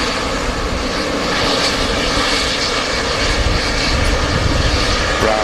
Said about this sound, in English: Jet2 A380 just landed as well behind her